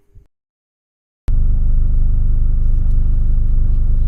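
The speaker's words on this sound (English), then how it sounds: "I just started my car up." A car engine idles steadily and loudly right after its exhaust has been welded, following a brief faint sound and a second of silence, with a low continuous rumble.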